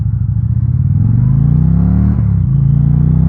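An Indian Challenger Dark Horse motorcycle pulls away from a dead stop, its deep engine note climbing through the gears with a brief dip at each shift, loud and close throughout.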